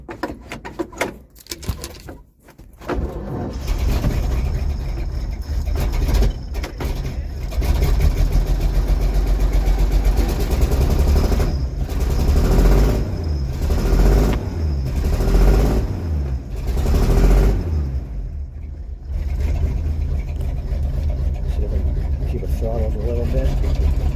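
A 1951 GMC Van Pelt fire engine starting from cold at about 33 degrees, with a few cranking bursts, then the engine catches and settles into a steady, close, rumbling idle with slight throttle swells; a person talks over it.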